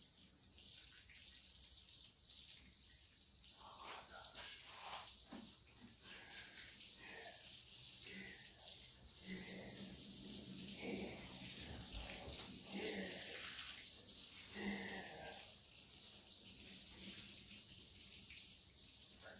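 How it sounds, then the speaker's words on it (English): Running water hisses and trickles steadily as it soaks into garden soil, close by, while a voice speaks briefly over it. "You water that soil. Water the soil. It drains too"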